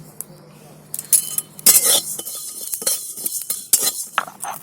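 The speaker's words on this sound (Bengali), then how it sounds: "এবার পাঁচফোড়নটাও শুকনো কড়াইতে দিয়ে এটাও ভেজে নেব" Whole cumin, coriander and panch phoron are dry-roasted in a dry karahi, with a spoon or spatula scraping and clinking against the metal in uneven bursts, close and fairly loud, while a voice speaks in between.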